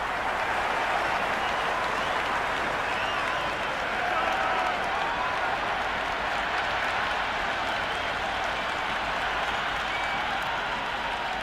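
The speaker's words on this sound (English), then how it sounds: "That's a hat-trick and the crowd are going wild." A cricket crowd cheering and applauding after a hat-trick, a dense, sustained wall of clapping and roaring that stays loud throughout.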